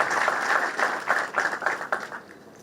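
Award ceremony applause from a crowd, steady clapping that swells and then trails off over a few seconds, heard alone with no talk.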